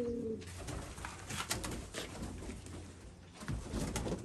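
A pigeon coos softly nearby, low rolling calls repeating against quiet background noise.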